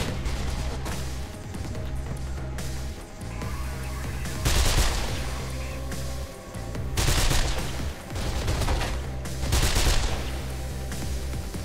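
Gunfire from the player's weapon in Mirror's Edge, repeated bursts of rapid automatic shots in several clusters, loud and close, separated by short pauses.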